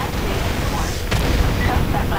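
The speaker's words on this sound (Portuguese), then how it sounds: "Eita, tá muito louco o áudio das explosões." An explosion in GTA San Andreas using a GTA V sound mod. A sharp blast cracks out midway through a steady rumbling background, then gives way to low rolling debris noise. A man can be heard speaking faintly underneath.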